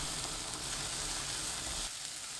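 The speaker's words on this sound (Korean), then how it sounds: "센 불로 켜고 팬에 식용유 1큰술, 피망, 파프리카 넣어주세요. 센 불로 1분 볶습니다." Bell peppers and paprika stir-fry in a tablespoon of cooking oil over high heat, a steady close sizzle that drops off slightly near the end.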